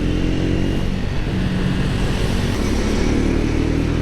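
A Triumph Speed 400 motorcycle engine holds a steady buzzing drone around 5,000 RPM while riding, a continuous loud hum mixed with wind rush, with no speech.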